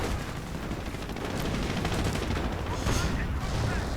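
Dense, continuous video-game battle gunfire from tanks and artillery, including 17-pounder guns, with heavy booms layered over a constant rumbling roar of combat.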